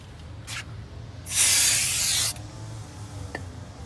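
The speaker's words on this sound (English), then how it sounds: "I'm gonna go ahead and spray some brake cleaner on it and wipe it down" A single burst of brake cleaner sprayed from an aerosol can onto a car brake rotor, a loud, close hiss lasting about a second, with short scuffs of handling before and after.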